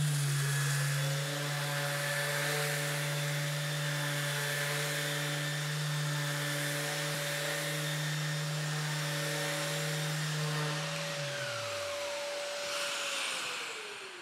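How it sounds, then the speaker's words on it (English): A Rotex orbital sander fine-sands wood at 240 grit, running as a steady, loud whining hum for about eleven seconds before spinning down, with no talk over it. "that can be used for sanding with an orbital sander,"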